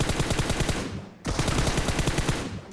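Bizon submachine gun fire in PUBG comes in two rapid bursts of evenly spaced shots, loud and close, separated by a brief pause.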